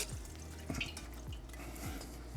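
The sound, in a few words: liquid draining from hot sauce jar into colander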